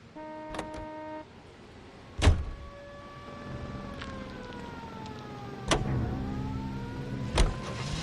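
Car driving in the 1940s Los Angeles video game L.A. Noire, a steady engine hum with gliding tonal shifts as it moves, punctuated by three loud thumps and a brief tonal bleep early on, no talk.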